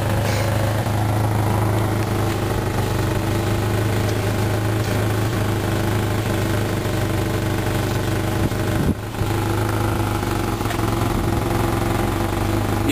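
A wood gas powered engine runs loudly and steadily at idle close by, its drone briefly dipping near the end as the fuel mixture changes, then picking back up.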